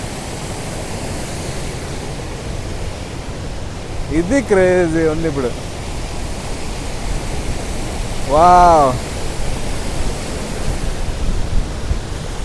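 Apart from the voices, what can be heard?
waterfall seen up close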